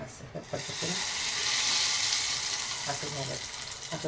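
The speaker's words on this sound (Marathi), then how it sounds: "असं चुरवून वाजलं तर आपली फोडणी बसली समजायचं आपण" Curry leaves, two dried red chillies and urad dal crackle in hot oil for a tempering. The sizzle is loud and steady, with sharp little pops and snaps running through it from start to finish.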